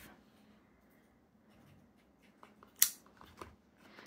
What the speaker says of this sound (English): Let me get a thing to cut this open. Okay, got my knife.